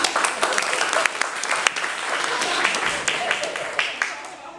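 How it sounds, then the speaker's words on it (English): A room of people gives a round of applause at a Toastmasters comedy workshop open house, dense close clapping with sharp individual claps standing out, steady for several seconds. "First of all, round of applause."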